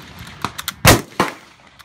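A Mosin Nagant rifle fired once outdoors, a single sharp, loud crack with a brief echo, framed by a few faint clicks and handling noises.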